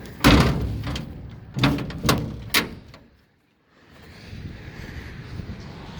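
Metal ramp latch on a 7 x 12 dump trailer's barn-door style gate with 4-foot sides, working through several sharp clanks and thunks in quick succession, close and loud, followed by quiet outdoor wind noise.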